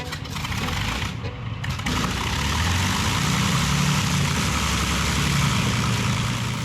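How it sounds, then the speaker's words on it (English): Engine number 3 of an Avro Lancaster bomber cranks and catches, then settles into a loud, steady piston idle nearby, a continuous low rumble with no voices. "You are ready for engine start."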